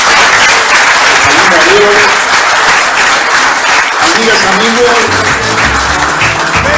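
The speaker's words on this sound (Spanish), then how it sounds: "un gran aplauso para el ponente" An audience gives a speaker a big round of applause at a talk, a loud, sustained crackle of many hands clapping while someone speaks into a microphone over it.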